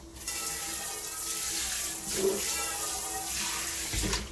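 Tap water runs steadily into a sink while a nonstick frying pan is rinsed, a close, continuous splashing stream with slight changes as the pan is moved under the faucet, no speech.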